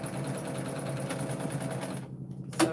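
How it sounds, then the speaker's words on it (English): A sewing machine runs steadily up close as it stitches the two edges of a tote bag closed, a fast even whirring chatter that stops near the end with a brief click, with no talk. "sew the 2 edges closed"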